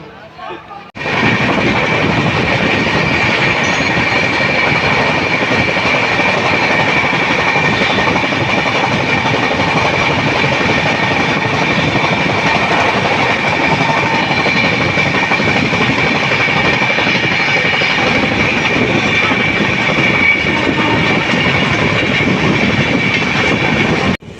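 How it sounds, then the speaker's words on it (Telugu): A train rumbles past loudly and close near Gudur station, with a continuous roar and rhythmic rail clatter that holds steady throughout before cutting off. "again train is coming Gudur station దగ్గర"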